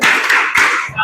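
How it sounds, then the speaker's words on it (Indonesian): Rhythmic group clapping of a classroom "tepuk salut" cheer, a few quick claps in a burst, close and loud, with voices mixed in. "Tepuk salut dulu untuk teman kita Nadia."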